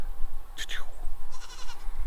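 Goat bleating at a farm where goats roam inside a fence, a short wavering cry near the start followed by a second, fainter bleat over steady outdoor background noise.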